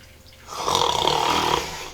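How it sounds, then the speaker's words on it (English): A single long snore rises and swells, then holds as a rough, breathy rasp for about a second and a half before easing off. It sounds close and fairly loud, with no talk over it. "Snore, Little Snow mumbled at him and fell asleep"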